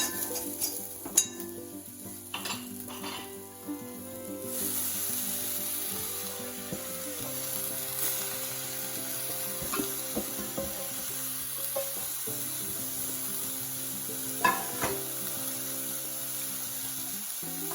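Vegetables for a Kerala thoran tipped into a pan of wilted onion, giving a loud, close sizzle with repeated metallic spoon clinks and stirring scrapes, and no talking.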